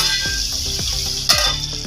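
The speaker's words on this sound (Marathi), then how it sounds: "आता इकडे चटणीला पण उकळ आली आहे." Chutney bubbling in a pan on the stove, a steady close sizzle with soft, repeated bubbly pops and one sharper clack, no voices.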